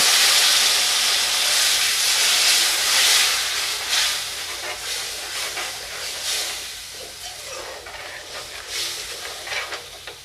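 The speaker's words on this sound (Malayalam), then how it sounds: "ഇനി ഇതിലേക്ക് നമ്മൾ പുളിവെള്ളം, വാളംപുളി പിഴിഞ്ഞ് വെച്ചിരിക്കുന്ന വെള്ളം ഒഴിച്ച് കൊടുക്കും" Tamarind water hits a hot pan of frying ginger for Kerala sadya inchi curry, setting off a loud, dense sizzling hiss that peaks early and then settles into a steadier, slightly quieter bubbling steam.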